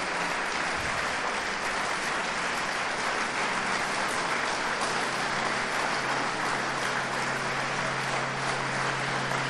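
A municipal council audience rises and applauds its special delegation: a steady, dense wash of clapping that holds evenly for the whole stretch, with no voices breaking through.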